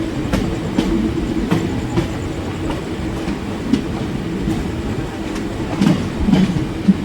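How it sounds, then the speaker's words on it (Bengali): A passenger train running late on the way to Tarapith clatters along the rails near Bandel Junction, a loud continuous rumble broken by regular clickety-clack beats and occasional faint wheel squeals. "ট্রেন তার স্টপেজ দিল।"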